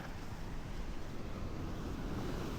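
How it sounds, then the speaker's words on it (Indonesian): Ocean surf at Watulumbung beach with big waves, a continuous broad roar of breaking water mixed with wind buffeting the microphone, loud and steady throughout. "walaupun ombaknya udah gede-gede ya"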